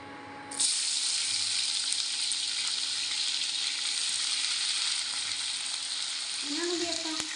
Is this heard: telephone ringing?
no